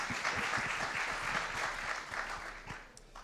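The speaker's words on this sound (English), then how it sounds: "Round of applause." Audience applause after a conference panel at a Bitcoin event, a steady wash of many hands clapping from a crowd that gradually thins toward the end.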